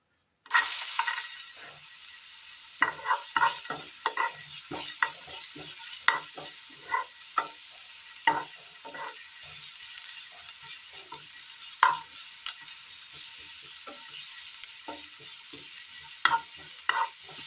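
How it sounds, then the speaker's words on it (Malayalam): Chopped shallots fry in a little oil in a pan for a Kerala curry: a quiet bed of sizzle broken by sharp, irregular scrapes and clinks of stirring. "അതിലേക്ക് ഒരല്പം എണ്ണ ഒഴിച്ചു കൊടുക്കാം എണ്ണയിലേക്ക് ചെറിയുള്ളി അരിഞ്ഞത് ഇട്ട് കൊടുക്കാം"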